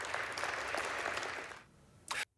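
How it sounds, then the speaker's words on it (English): Thin, scattered applause from a distant crowd, a few claps fading out, then a short final burst before it cuts off. "you heard the lackluster applause in the background"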